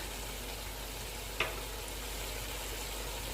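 Beef karahi fries in a pan with turmeric, red chili, black pepper and salt, giving a steady soft sizzle throughout with one brief sharp crackle, no voices.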